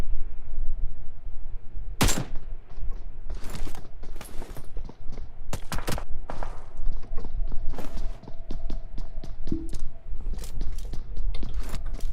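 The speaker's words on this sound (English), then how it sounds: "And we got Oreo putting some shots down here with an AK, single tapping" AK rifle fired in single taps in a tournament video game, heard as a string of sharp, spaced shots over steady background noise, some close and loud, others fainter, alongside footstep-like thuds.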